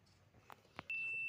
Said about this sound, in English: So now you can hear the beeping